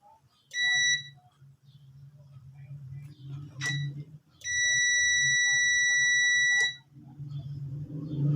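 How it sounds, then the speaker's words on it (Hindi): A meter beeps during a pressure test on a Dungs gas pressure switch. A short tone sounds, then a brief chirp, then a long, steady, loud beep lasts about two seconds, all over a low background hum. "जैसे ही इसके अंदर प्रेशर बिल्ड हुआ तो साथ ही बीप बढ़ने लग पड़ी।"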